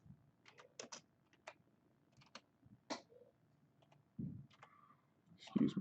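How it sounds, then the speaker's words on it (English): Slow, uneven typing on a computer keyboard, with close, sharp clicks in small bursts and pauses, quiet and set against a silent room with a few soft low thumps. "Excuse my slow typing fingers."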